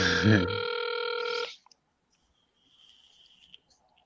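A landline house phone rings once with a loud, steady electronic tone for about a second and a half, then cuts to near silence with faint traces of a distant line tone.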